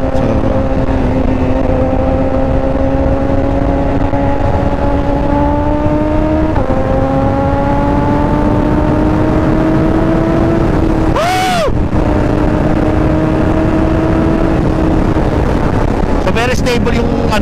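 A BMW S1000RR 1000cc sport bike engine drones loudly and steadily during a test ride, its pitch climbing gradually through the gears, with a sharp rev burst partway through and heavy wind noise throughout.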